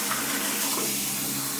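Tap water runs steadily for rinsing photographic film during home developing, a continuous close splashing gush with no talk.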